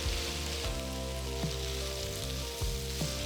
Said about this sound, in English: So we're going to cook the tomatoes along with the onions